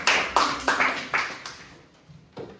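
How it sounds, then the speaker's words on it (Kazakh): Students in a seventh-grade art lesson clap in unison, about six sharp, evenly spaced claps, loud and close, with the last one coming after a brief pause. "Қол шапалақтап."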